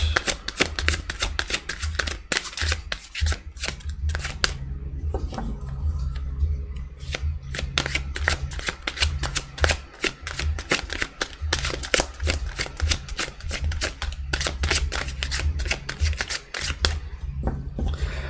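Rapid, crisp riffling of tarot cards repeated in quick bursts, close to the microphone, over a low steady hum.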